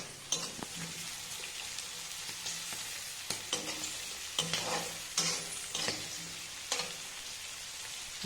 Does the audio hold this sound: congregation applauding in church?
no